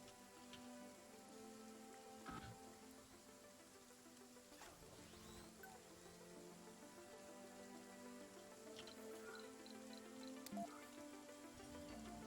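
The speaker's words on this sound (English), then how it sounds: "That's a nice rain sound." Rain in the video game Surviving Mars patters steadily and softly on surfaces, a quiet continuous wash of drops with occasional faint clicks.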